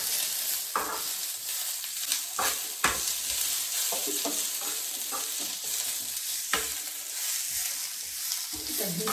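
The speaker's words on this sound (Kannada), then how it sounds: "ಗೋಲ್ಡನ್ ಬ್ರೌನ್ ಆಗೋ ತನಕ ನಾವು ಫ್ರೈ ಮಾಡ್ಕೋಬೇಕು" Masala frying in a pan until golden brown, a steady broad sizzle with repeated scraping and stirring knocks from a spoon against the pan, close up with no talking.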